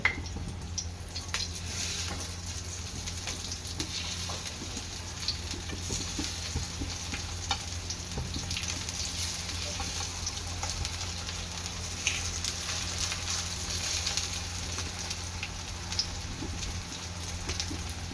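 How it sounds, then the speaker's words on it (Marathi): Brinjal slices frying in hot oil in a pan, a continuous crackling sizzle held steady and close throughout, with small pops scattered over the hiss. "तेल गरम झालं थोडं वांग्याचे काप टाकायचे"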